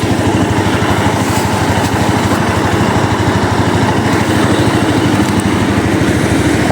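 A motorcycle engine that was started a short while ago and left standing about an hour runs steadily up close, a loud, even, rapid putter at idle throughout with no voices.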